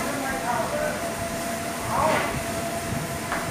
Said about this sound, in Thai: ขบวนนี้ก็เป็นกรุงเทพสุไหงโกลก